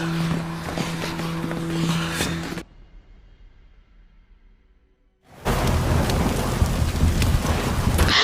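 Heavy rain pours steadily with rumbling thunder in a zombie survival drama, broken by a few seconds of near silence before the downpour returns just as loud.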